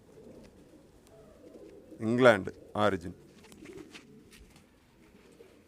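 An English pouter pigeon gives two short, close coos in quick succession, standing out over a quiet background with some soft talking around it.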